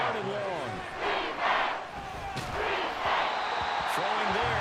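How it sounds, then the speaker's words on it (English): A roaring stadium crowd fills a Madden 24 Dolphins vs. 49ers football game, with a continuous swelling cheer that rises and falls under game-commentary voices. "This crowd turning up the decibel level."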